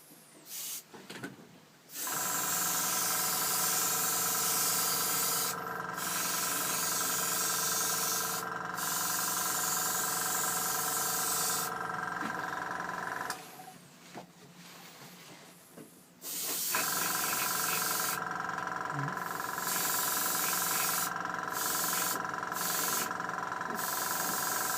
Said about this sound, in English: Just get this done, and then we can turn the compressor off for the final time.